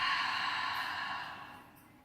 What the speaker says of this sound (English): loud, noisy exhale